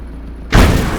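A single deep, sudden boom of gunfire in the war game Call to Arms: Gate of Hell, breaking out of quiet background ambience and rumbling on briefly.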